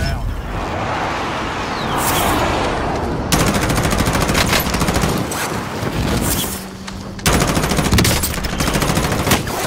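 Automatic gunfire in Call of Duty Modern Warfare Warzone, loud sustained bursts of rapid shots with short pauses and a crackling firefight texture, mixed under a voice talking.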